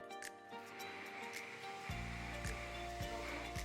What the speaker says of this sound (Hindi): सारा पानी स्क्वीज करके ये धनिया पालक गया मिक्सी में, साथ में डाली 1 हरी मिर्च और इसे मैं बहुत बढ़िया से पीस रही हूँ